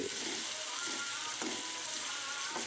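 Soaked rice drops into vegetables frying in a kadai for a mixed vegetable pulao, followed by a dense, steady, hissing sizzle that holds at an even level from start to finish.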